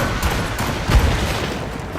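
Ship cannons fire in a naval battle in Assassin's Creed Rogue, a dense, rumbling barrage of overlapping booms with one heavier blast near the middle.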